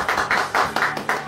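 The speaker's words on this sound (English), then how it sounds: "Everyone, round of applause for Tom." A small group of people applauds someone named Tom. The clapping is loud and close, with rhythmic bursts that come in about five pulses.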